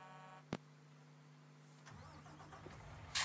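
A truck engine in the farming game Landwirtschafts-Simulator 19, a modded TerraGator 9205, cranks with a sharp click, then catches and settles into a low, steady rumble, with a brief burst of higher noise at the end.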